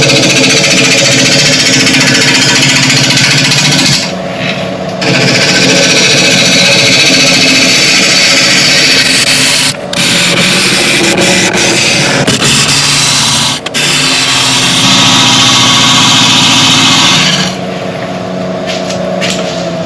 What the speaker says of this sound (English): I'm going to start turning at about 900 RPM.